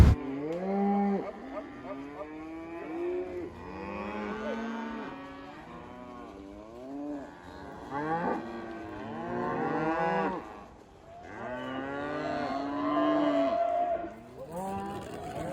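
Many cows moo repeatedly, long drawn-out calls overlapping one another from a herd nearby, some louder and closer, others farther off.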